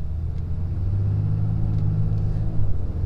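A 2019 diesel pickup truck pulls away from a stop, heard from inside the cab: a steady low engine rumble and drone that builds slightly as it accelerates, with faint clicks over it and no talking.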